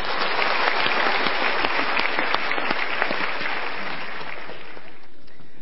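An audience bursts into applause at a talk, a dense steady patter of many hands clapping close by that holds for several seconds before thinning slightly toward the end.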